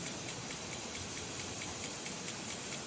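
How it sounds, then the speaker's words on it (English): Steady, dense rain falling harder outdoors, a continuous close hiss of drops on surfaces with no break or voices. "it's starting to rain more."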